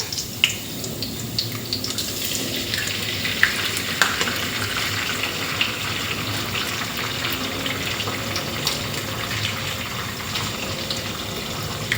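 Eggs and preserved radish stir-fried in a pan, with a continuous crackling sizzle and occasional scrapes of a spatula, steady and close with no talking.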